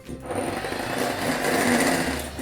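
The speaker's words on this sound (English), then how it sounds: "It's time to beat my egg whites." Electric mixer beating egg whites for a castella sponge cake, a steady close whirring buzz running without pause for a couple of seconds.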